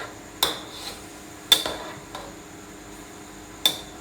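Green beans lifted out of a cooking pot, a utensil striking the pot rim in three or four sharp, bright clinks spaced over a few seconds, with a quiet background and no talking.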